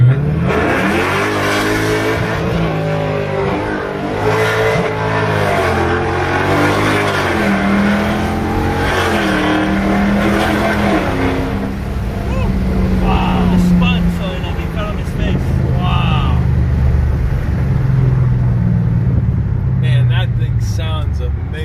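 A 2018 Dodge Charger with long tube headers accelerates hard through several gear shifts, its loud engine rising in pitch, dropping briefly at each shift, then settling into a lower rumble, heard close from inside the car.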